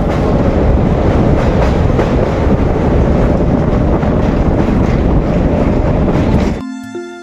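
Kanchanjunga Express rolling across a rail bridge over the Ganges, a loud, steady roar of wheels and carriages with clickety-clack and wind buffeting throughout, close and continuous, cutting off abruptly near the end.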